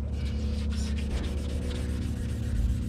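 Gel coat on a boat hull being sanded by hand, a close, continuous rough scraping rub in steady back-and-forth strokes with a low hum underneath.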